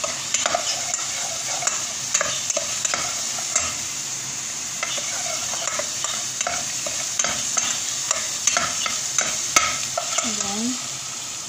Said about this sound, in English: meron na akong ginisa dito na onion